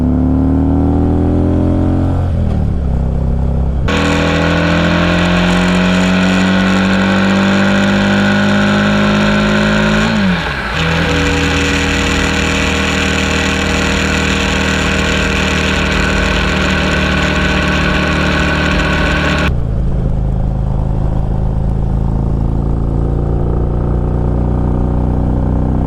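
A 2017.5 Harley-Davidson Street Rod, a cafe-style motorcycle, is heard up close while being ridden. Its engine rumbles loudly and continuously, revving up through several gear changes with rising and falling pitch, then settles lower near the end.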